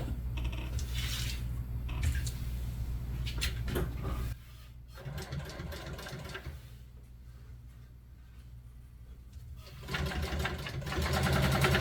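Industrial sewing machine stitching a seam along a marked line in vinyl upholstery material, running in steady loud bursts with a quieter pause in the middle before the motor hums again.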